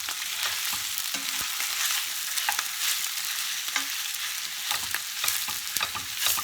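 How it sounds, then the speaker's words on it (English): A spoon breaks up sausage in a frying pan, with a steady close sizzle of frying meat, scattered scraping and tapping against the pan, and no voices. "start chopping this sausage up"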